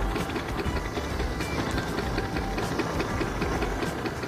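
A motorcycle engine in Gangstar Vegas runs steadily at a military base, a continuous buzzing drone at an even level with no break.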